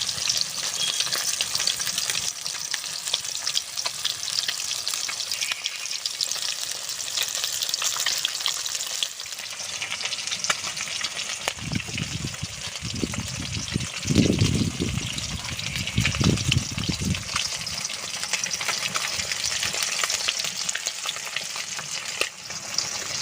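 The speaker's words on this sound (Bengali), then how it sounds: "ওদিকে মাছটা ভাজা হতে থাকুক" Katla fish frying in hot oil for a light fish curry with ridge gourd, a steady close sizzle and crackle throughout, with a few louder bursts of bubbling midway.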